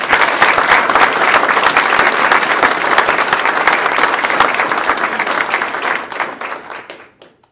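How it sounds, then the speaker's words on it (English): An audience at a military chief induction ceremony applauds, sustained loud clapping from a crowd that carries steadily and then fades out. "Please give our ceremony participants a round of applause."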